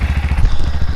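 Motorcycle engine idling close by, a steady low, rapid chugging putter that runs alone for about a second.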